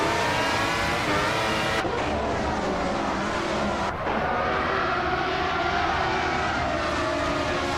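Several race cars roar loudly together on a short oval track at Maple Valley Short Track as a race gets underway, including a 1995 McLaren MP4/10 on pole, with a steady dense engine drone and brief dips as cars pass.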